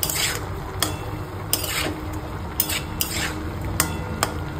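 Vegetables with salt and turmeric are stirred in a pot, a rhythmic series of close spoon scrapes and clinks roughly every second over a low simmering sizzle, no speech.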